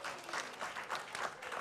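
Audience applause at a Hawaiian cultural panel, a steady wash of many hands clapping at moderate level with no gaps, heard alone.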